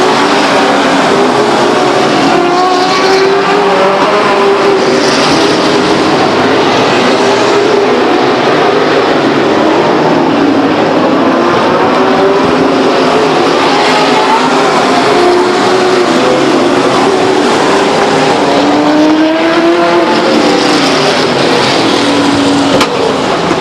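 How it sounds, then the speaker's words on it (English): Race cars roar around the Stockton 99 Speedway oval in 2000 as the 3-car slides high in turn 4, engines droning loudly and steadily with rising and falling pitch throughout. "the 3-car of Robert Knittel slides high atop of turn 4"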